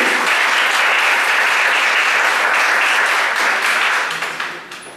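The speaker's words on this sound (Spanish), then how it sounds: "Les pido un caluroso aplauso para ella." Warm applause from an audience at a cultural conference in Cuernavaca, a dense and even wash of clapping that holds steady for several seconds before fading away at the end.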